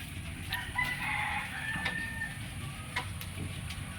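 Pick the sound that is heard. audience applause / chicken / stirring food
chicken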